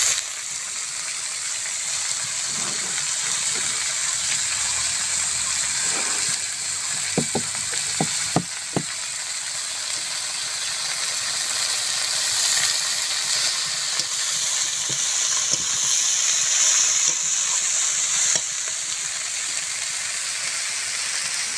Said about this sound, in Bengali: কাঁচা লঙ্কার পেঁয়াজ শাকটা ভেজে নেব শাকও দিয়ে দেবো